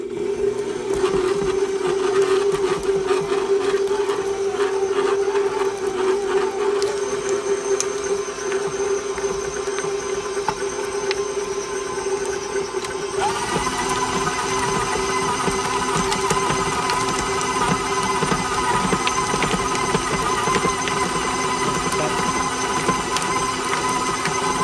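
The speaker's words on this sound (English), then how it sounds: "here I have 2 pounds of cream cheese, which I'm gonna go ahead and mix until smooth" An electric mixer steadily beats two pounds of cream cheese until smooth, giving a continuous whirring motor drone with a shift in pitch partway through, close and loud with no talking.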